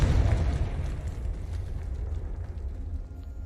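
A Confringo fire spell explodes in Hogwarts Legacy, a deep booming blast at the start that settles into a sustained low rumble and crackle for several seconds, loud and close with no talk.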